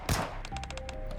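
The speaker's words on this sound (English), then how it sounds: "Gunfire?" Video game gunfire from Nikke: a sharp shot followed by a rapid burst of automatic fire, loud and close over a busy game soundtrack.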